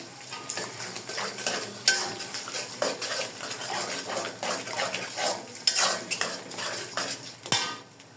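Three eggs fry in a pan, stirred with a utensil that clinks and scrapes against the metal. Faint sizzling sits under the repeated scraping strokes throughout, and no one speaks.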